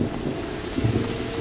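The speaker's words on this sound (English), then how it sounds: "Oh, no, no, it's raining, okay." Steady rain and low rumbling thunder in the video game A Plague Tale: Innocence, a continuous wash of falling water with deeper swells, heard alone at moderate level.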